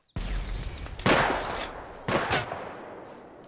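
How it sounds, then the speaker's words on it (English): Gunfire in the shooter game Project Silverfish: a burst of loud, close shots with a dense rattling tail, followed by two more heavy reports about a second apart. "I forgot how scary the gun sounds are"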